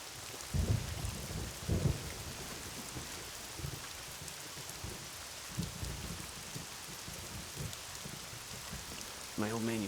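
Steady rain patters on surfaces while low thunder rumbles several times, and a voice briefly speaks near the end.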